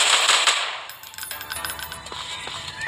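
Gunfire from a shotgun in a Free Fire-style mobile shooting game, a dense rattle of sharp bursts at the start that settles into a steadier crackling volley, loud and close with no talk.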